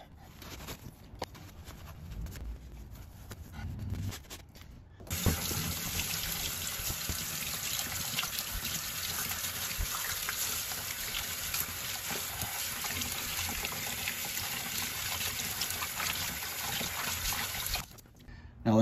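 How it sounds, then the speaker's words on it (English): Water runs steadily from a sink tap for a long stretch while rinsing a motorcycle caliper cover, a constant splashing rush that cuts off near the end, after some quieter handling noises. "just gonna wash it, rinse it in actually in water downstairs in my sink"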